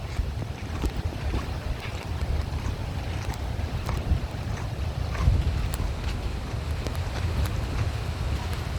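Rough sea waves and gusty wind at a shore in Siargao, a constant rumbling surf under buffeting wind noise on the microphone, with occasional louder wave surges.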